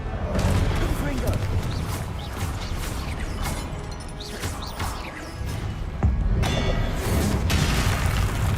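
Explosive bursts from the Confringo blasting spell in Hogwarts Legacy, booming and crashing close up amid steady game noise, while a voice talks over the action.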